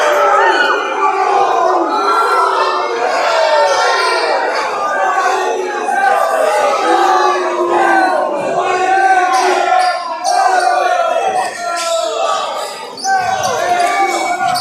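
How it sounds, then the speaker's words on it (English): Basketball crowd at an NPA Season 7 game between FEIA and RNS, a dense, loud mass of shouting and chatter sustained throughout after a travel call, with a steady roar of voices filling the gym. "Crowd not liking the travel call."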